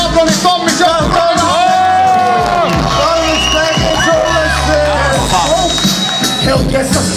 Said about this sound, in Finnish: Otetaan aplodit Tommi Show!